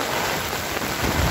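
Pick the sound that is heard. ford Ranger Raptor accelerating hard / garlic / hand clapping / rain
rain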